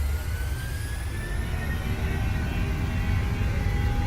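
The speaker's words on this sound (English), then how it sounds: "They got good engine sounds though, I give them that much." Simulated PMDG Boeing 737 jet engines spooling at takeoff thrust in Microsoft Flight Simulator: a steady, heavy roar with deep low rumble and a faint high whine, continuous and even throughout, with no talking.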